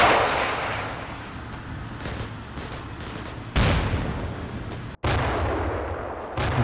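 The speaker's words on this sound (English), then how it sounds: "Rounds of artillery just falling all over the factory." Artillery shells rain down on a factory in the war game Combat Mission Cold War: a steady rumble of distant fire, then two sharp, loud impacts with long decaying booms, no voices.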